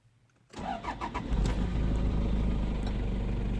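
A 1993 Toyota HiAce Super Custom Limited turbo diesel cranks with a few quick chugs, then catches and settles into a loud, steady, close idle rumble after a quiet start, with no voices.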